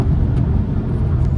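A Volkswagen TDI 2.0 turbo diesel car with a manual gearbox, tuned with its emissions equipment deleted, pulls hard under acceleration, giving a loud, steady engine and road roar with no talk.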